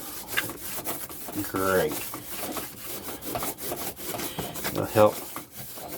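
An aluminum fuel rail is hand-polished with a dab of WD-40, giving close, rasping back-and-forth rubbing strokes in irregular bursts while someone talks over them.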